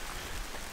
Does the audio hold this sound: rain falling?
yes